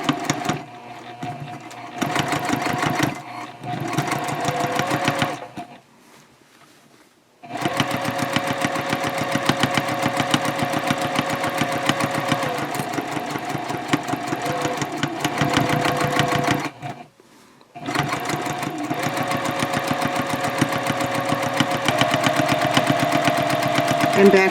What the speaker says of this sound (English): And then just sew right through that webbing.